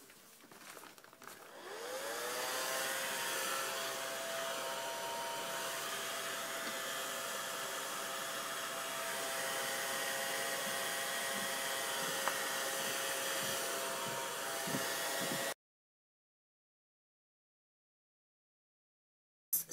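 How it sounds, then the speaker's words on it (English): A hair dryer whirs on after a brief start, blowing steadily and fairly close for about fifteen seconds, then cuts off abruptly to silence. "see what this dryer thing is gonna do"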